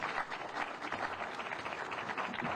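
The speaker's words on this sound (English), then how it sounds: "Give him a round of applause." An audience at a Flint city update on ARPA funding applauds, a dense, even wash of clapping held steady and fairly faint throughout, with no voices over it.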